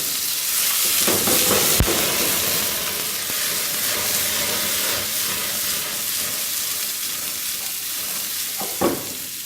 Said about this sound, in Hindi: ऑयल डाला हूँ मैं फ्राई पैन में। सबसे पहले मटर को के अंदर डाला,